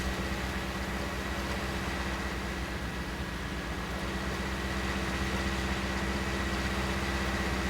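A small tractor in Farming Simulator 19 labours under a heavy load, its engine giving a steady, continuous low drone with tonal hum that holds at a constant level throughout, with no talk over it.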